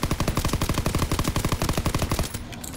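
Fast machine gun fire in the Call of Duty WWII Zombies game, a loud rapid stream of even, evenly spaced shots lasting about two seconds before stopping abruptly.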